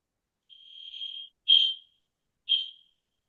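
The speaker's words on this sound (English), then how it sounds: "our alarms are going off" Alarms going off in a township trails committee meeting: three shrill, high electronic tones, a longer rising one then two short sharp bursts with gaps between, clear and fairly near, with no talk over them.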